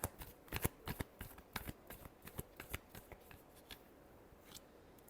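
A deck of tarot cards shuffled by hand up close, a quick run of soft papery riffles and flicks that thin out toward the end, quiet and without speech.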